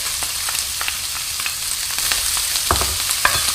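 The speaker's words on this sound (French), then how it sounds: "Je vais ajouter l'échalote." Chopped shallot frying over high heat alongside browned sausages in a pan: a loud, steady sizzle with scattered scrapes and taps of a utensil stirring, and no voices.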